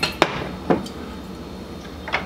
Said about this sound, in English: in a medium bowl, we're gonna whisk together the 2 1/3 cups cake flour